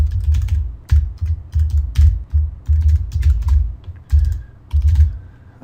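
Quick bursts of typing on a computer keyboard, keys clacking close and loud in short irregular runs with brief pauses between them, no voices.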